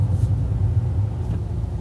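A car's V8 engine idles with a deep, steady low rumble, close and even with slight pulsing and no speech over it.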